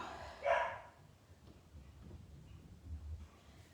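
A single dog barks once, fairly near and short, then only quiet indoor background with faint rumbling remains.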